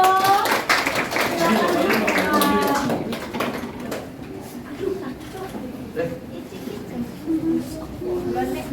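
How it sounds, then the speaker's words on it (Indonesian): Applause in a vocational school classroom for a presenting student group: a burst of clapping from many hands that fades after a few seconds, followed by quieter room noise and a voice beginning to speak. "Beri aplaus buat kelompok 1."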